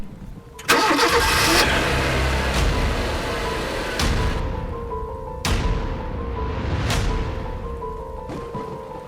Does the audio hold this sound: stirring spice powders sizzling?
no